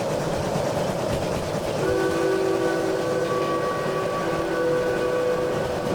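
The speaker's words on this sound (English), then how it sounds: "Let's sound the horn here in the tunnel" Steam locomotive whistle in the Derail Valley video game, sounding inside a tunnel: a loud, steady multi-tone blast rises over heavy rolling train rumble and lasts several seconds.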